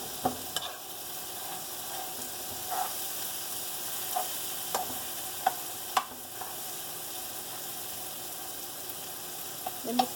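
Egg with vegetables fries in a pan, a steady soft sizzle broken by occasional light scrapes and taps of stirring, with no one speaking.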